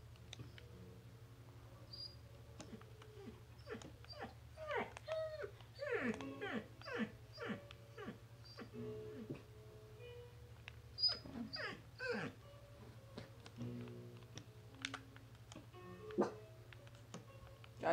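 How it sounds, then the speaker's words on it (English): A dog barks and whimpers in the background of a home, several short yelps and whines in irregular bursts over a low steady hum, with a person talking quietly at times. "y'all are gonna be hearing my dog's barking"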